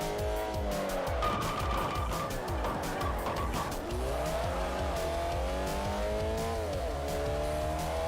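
Tires squeal continuously through handbrake turns in a front-wheel-drive car in Forza Motorsport 4, with a steady engine drone underneath and a few rising-and-falling slides, loud and close throughout.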